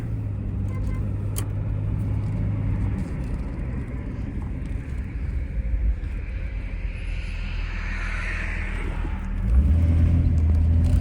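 Steady low engine rumble and road noise from inside a moving 2001 Jeep Cherokee Sport 4x4 with a 4.0L engine, driving through snow and water, with a soft hiss of wet surface and a louder surge near the end.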